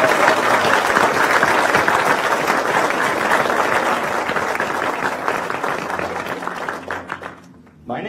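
Audience applause for mayoral candidates at a debate in a downtown central library, loud dense clapping and crowd noise that thins and fades out near the end.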